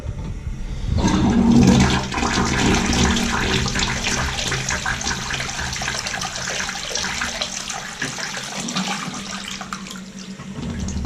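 A newly fitted rim-mounted toilet bowl flushing in close-up, a loud rushing swirl of water that holds steady for several seconds before tapering into trickling refill, with no voices.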